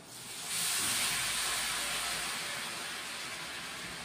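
Tomato paste hits a hot pan for Bengali egg curry, setting off a sudden loud, bright sizzle that holds steady and eases only slightly as it cooks.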